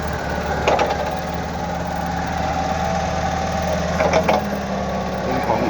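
A 1.5-ton forklift's freshly installed Toyota four-cylinder engine idles steadily, a close mid-pitched rumble with light rhythmic ticking and a couple of brief rattling bursts, no voices.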